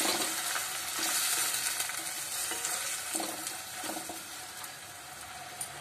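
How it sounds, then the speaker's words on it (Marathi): Chopped tomatoes sautéing in oil for Maharashtrian stuffed brinjal, a dense continuous sizzle with irregular soft stirring scrapes running throughout, close and moderately loud with no talking. "हे टोमॅटो विरघळेपर्यंत म्हणजे पूर्ण व्यवस्थित शिजेपर्यंत आपण हे तेलात परतून घ्यायचे"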